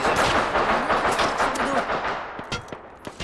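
Rapid gunfire in the battle royale game Apex Legends, dense overlapping shots and bursts at close range, loud and continuous, thinning into scattered sharp shots toward the end.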